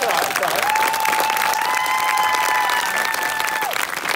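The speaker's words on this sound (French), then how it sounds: "Ouais, on peut les applaudir" Audience at a comedy roast night in Aix-en-Provence applauds the evening's organizers, a dense, steady wash of clapping throughout with a few cheers, and a voice briefly sounding over the crowd.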